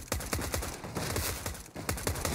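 Rapid bursts of close gunfire crackle through a Counter-Strike match on de_mirage, shots clustered in dense, overlapping volleys.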